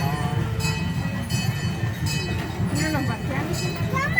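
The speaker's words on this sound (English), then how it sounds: "Train's now running." Irvine Regional Park train running, a steady low rumble of rolling rail cars with light clinks and rattles, heard up close from on board beneath some faint voices.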